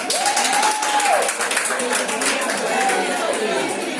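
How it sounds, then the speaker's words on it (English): An audience claps continuously at a live gathering, a dense, even wash of applause mixed with crowd chatter throughout. "Clap it up if you had that partner."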